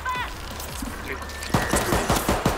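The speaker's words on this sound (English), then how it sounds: "Alright, Pet, I'm fucking blasting him. them." Gunfire in the video game World War Z: a rapid string of loud, close shots in the second half, preceded by quieter game effects, with no speech.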